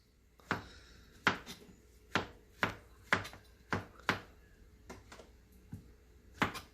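A knife chops organic bell mushrooms on a board with about a dozen crisp, distinct taps in an uneven rhythm, close and fairly quiet, with no talking.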